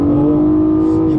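A Nissan Maxima with the VQ engine revs in sport mode through a CVT, a loud steady engine drone holding a strong tone, heard from inside the car with no talk.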